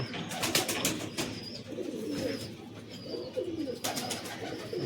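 Madras pigeons, among them a red-marked Madrasi hen with red-tipped tail, coo in a low rolling murmur, several birds overlapping near and steady, with faint higher chirps and a loft hum behind.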